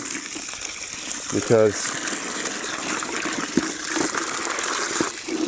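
Free-range chicken eggs rinsed under running water, a steady gush of flowing water throughout with a brief louder splash early on, while a person talks over it.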